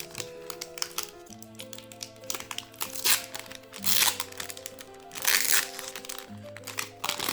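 Crinkling plastic wrapper of a Magic: The Gathering Scarlet Wedding (Noce Écarlate) collector booster pack being torn open, bursts of crackling and crunching over soft background music, with no talking.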